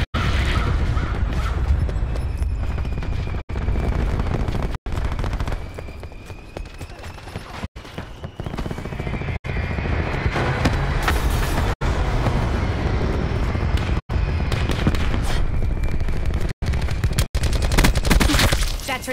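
Thresher scorestreak air attack in Black Ops 4, a loud continuous barrage of rapid gunfire and explosions, punctuated by brief cuts, with little talking.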